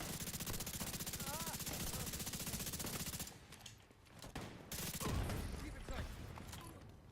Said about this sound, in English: Oh, they're shooting at a turret.